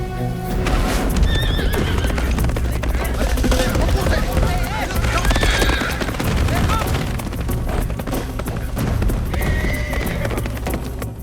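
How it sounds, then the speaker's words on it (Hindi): A horse gallops with rapid clip-clop hoofbeats and repeated whinnies amid a dense, loud action scene, with voices talking over the commotion. "ये घोड़े पे किधर भागता चला जा रहा है?"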